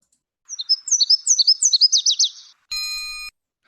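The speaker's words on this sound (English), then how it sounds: "Someone said the Nashville seesaw warbler." A Nashville Warbler sings a clear, close song of rapid high chirping notes in a quick series, followed by a brief steady electronic tone.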